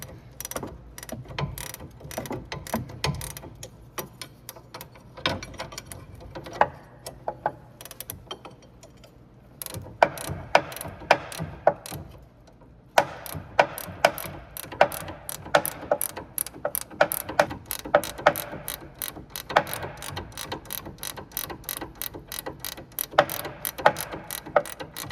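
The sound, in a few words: wrench loosening sway bar link nut on Honda Odyssey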